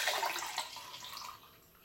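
Juice pours from the container of an Omega J8007 juicer into a glass, a brief soft splashing trickle that quickly fades.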